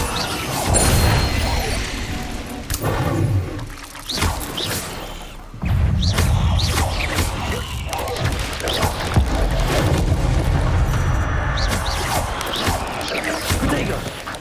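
Confringo explosive curse blasts in Hogwarts Legacy, a loud dense barrage of crashing, booming impacts and whooshes running almost continuously, with a brief dip before a renewed burst of blasts.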